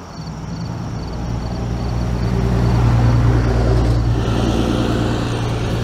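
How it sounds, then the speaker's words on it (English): Steady road traffic rumbles nearby, with a car swelling louder as it passes and a continuous low engine drone underneath. "with all the cars you hear going by"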